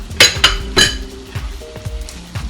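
Yogurt being stirred into khara masala mutton in a pot: a few sharp metal spoon clinks and scrapes against the pot, with a soft sizzle underneath, close and with no talking.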